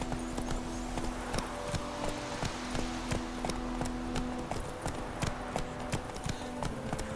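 Geralt's horse Roach gallops in The Witcher 3, a steady rapid clip-clop of hooves close by, with occasional tonal sounds in the background.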